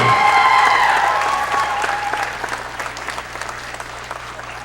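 A talent-show audience claps after an act: loud, dense applause that starts at full strength and thins gradually into scattered claps, with a little crowd murmur underneath.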